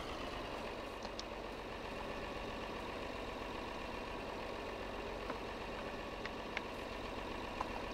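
A tractor engine idles in Farming Simulator 22, a steady low mechanical hum with a constant drone and a few faint clicks and ticks over it, no speech.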